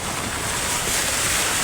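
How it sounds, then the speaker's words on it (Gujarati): Heavy monsoon rain falls on a flooded creek at a bridge in Dediapada, Gujarat. The roar is dense, steady and loud, with wind buffeting the microphone. Nobody speaks. "ફૂલ વરસાદ પડી રહ્યો છે"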